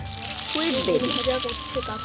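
Potatoes, eggplant and pointed gourd fry in hot oil with a steady, continuous sizzle while a person talks over it.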